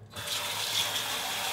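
Cold tap water runs steadily into a sink while rinsing cabbage for Korean soybean paste soup, a continuous close splashing gush with no talking.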